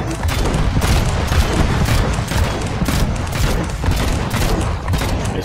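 Rapid, continuous gunfire from vehicle-mounted guns in the Trailmakers building game, a loud sustained barrage of overlapping shots lasting the whole stretch with no pauses.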